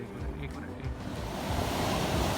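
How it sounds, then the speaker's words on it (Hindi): A roaring mountain stream along a high jeep road in Supat Valley, Kohistan, gives a steady, broad rush of water that swells slightly louder toward the end, with no talk over it. "पूरे रास्ते में इस तरह के शोर मचाते हुए नदी नाले जा बजा मिलते हैं।"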